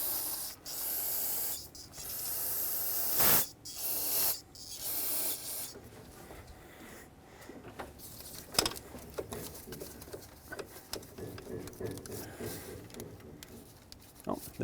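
Penetrant sprayed onto the fuel rail of a 2009-2019 Ford Flex, heard as several loud hissing aerosol bursts in quick succession, followed by softer clicks and tapping of work on the engine.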